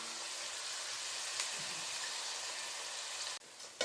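Onions frying in oil in a pan while making tomato gojju, a steady soft hiss and sizzle held evenly throughout, close and quiet, with a brief clatter near the end.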